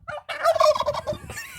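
A turkey at a farm, among Royal Palm and blue slate birds, lets out one close, loud, rapid warbling gobble lasting just over a second.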